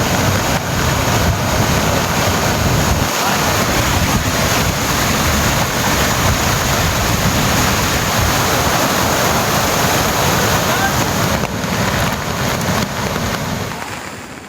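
Floodwater from the swollen Thamirabarani river roars past the Maruthur dam in a continuous dense rush, loud and close with no breaks, and strong wind buffeting the microphone, without any voices.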